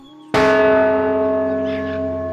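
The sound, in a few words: cartoon bell ringing sound effect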